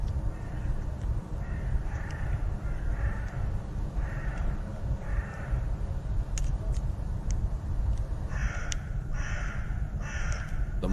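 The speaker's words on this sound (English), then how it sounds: "The morning crows." Crows caw in the morning in several short bursts of two or three calls, moderately distant, over a steady low rumble of background noise.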